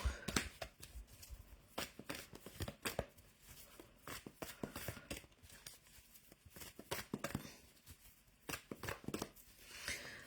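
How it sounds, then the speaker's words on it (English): Tarot cards are shuffled by hand in quick bursts of soft riffling and slapping, close and quiet, with short pauses between. "now I'm just shuffling and thinking"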